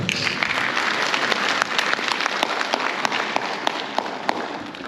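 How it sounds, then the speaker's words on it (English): An audience applauds at a Zimbabwe UK business expo in Birmingham, a dense steady wash of many hands clapping with sharp individual claps standing out, sustained for several seconds in a large hall. "And I think you need to give yourselves a round of applause."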